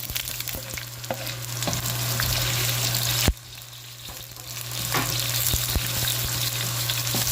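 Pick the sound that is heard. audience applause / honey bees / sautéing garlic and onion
sautéing garlic and onion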